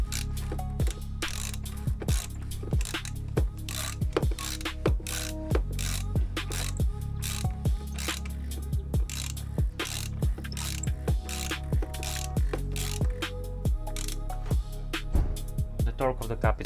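A torque wrench ratchets steadily as it tightens a car's oil filter cap during an oil change, making a close, even series of sharp clicks throughout.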